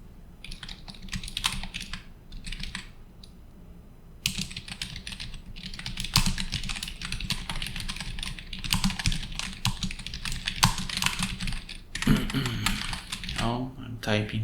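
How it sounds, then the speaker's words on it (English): Rapid clicking of a computer keyboard runs steadily throughout while a person talks over the tapping. "Now I'm typing"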